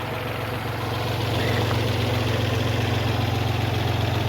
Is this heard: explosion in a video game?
no